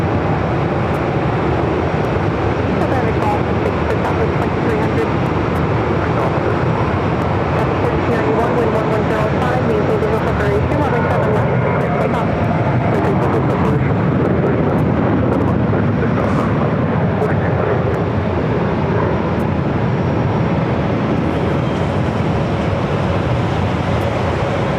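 A Boeing 737-800 accelerates down runway 7 left at Phoenix for takeoff, a loud continuous broadband jet roar that holds steady throughout, with voices talking over it.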